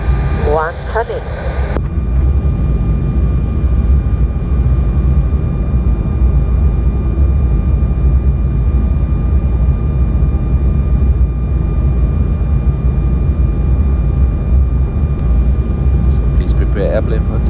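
Cockpit of a Lufthansa Airbus A320 as engine number 1 spools up, a steady loud rumbling drone with a constant whine running throughout, with brief cockpit talk at the start and end.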